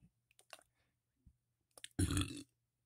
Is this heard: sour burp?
yes